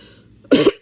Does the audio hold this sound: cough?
yes